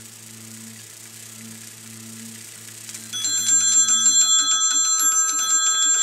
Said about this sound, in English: these bells will continue to ring until the charge in the